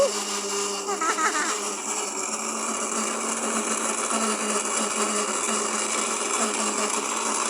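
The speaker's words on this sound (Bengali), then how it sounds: "আমাদের ব্লেন্ডারটা একটু নষ্ট, মানে নষ্ট বলতে আর্থিং করে" An electric blender with an earthing fault runs steadily, its motor giving a continuous whirring drone with a slight mechanical rattle that holds at an even level for the whole stretch.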